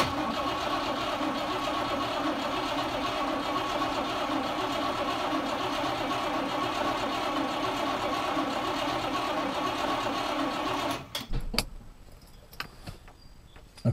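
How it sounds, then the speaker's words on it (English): A 1968 Rover P5B V8 engine is turned over on the starter with a steady, loud mechanical whir for about eleven seconds, then stops, leaving quiet clicks and rustles. "I'm going to turn the engine over for 10-15 seconds just to get the oil circulating around the engine."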